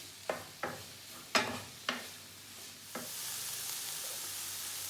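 Meat being stirred in a frying pan, heard as five soft scraping knocks in quick succession, followed by a steady close sizzle that rises and holds, with no talking.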